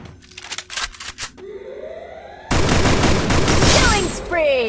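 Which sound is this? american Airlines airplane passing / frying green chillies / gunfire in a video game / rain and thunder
gunfire in a video game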